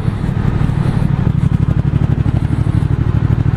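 A Triumph 1200 Speed Twin motorcycle cruises in fifth gear at about 1500 rpm on a winding mountain road, its engine giving a loud, steady low-pitched pulsing thrum close to the rider, with no talking.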